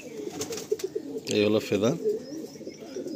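A male pigeon being held and handled lets out a short burst of soft, low cooing close by. Someone talks quietly just before and after the coo.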